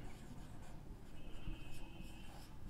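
Pen or chalk writing out the types of quadrilaterals in a maths lesson, soft scratchy strokes close by with brief pauses between words.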